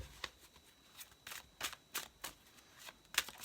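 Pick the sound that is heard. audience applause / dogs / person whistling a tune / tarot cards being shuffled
tarot cards being shuffled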